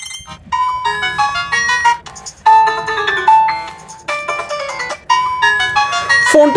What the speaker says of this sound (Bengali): এই ফোনটির রিংটোনের যে সাউন্ড সেটা কিন্তু